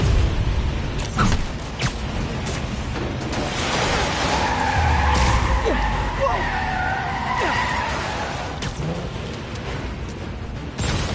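Trucks in the Spider-Man PS4 video game speed along with screeching tires and skids, engines roaring near and loud under chaotic action sounds, while voices talk over the scene.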